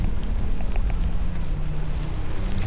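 Steady, heavy headwind while cycling, rushing and buffeting against the microphone, a constant low roar with no voices.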